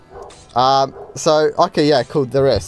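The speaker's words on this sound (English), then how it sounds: "I do apologize for that dog." A neighbour's dog barks repeatedly nearby, a run of sharp, loud yapping barks in quick bursts, with someone talking over and between them.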